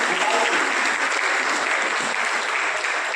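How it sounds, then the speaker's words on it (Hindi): A crowd at a Bhumihar-Brahmin unity forum gathering applauds to welcome a guest, a thick, even wash of clapping that holds steady and full from start to finish. "आप तालियों की गड़गड़ाहट से स्वागत करें।"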